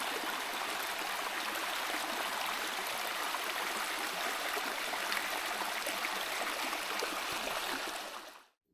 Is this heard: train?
no